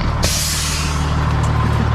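Truck air brakes on a tanker trailer released, a sudden loud hiss of escaping air that bursts in and holds steady over a deep idling diesel rumble close by.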